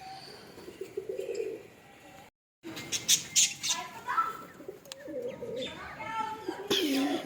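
Pet budgerigars kept in a breeding setup chirp and twitter close by in scattered bursts, mixed with some coo-like calls, while a person talks at times underneath.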